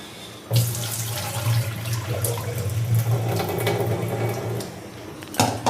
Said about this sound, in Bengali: যে আমি ডালটা করব তার জন্য এই যে ডালটা ধুয়ে নিচ্ছি